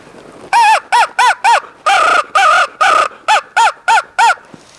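A hand-blown crow call imitates a crow's caw, with eleven loud, close, harsh caws in a steady cadence, some short and clipped and a few drawn out, with no talking.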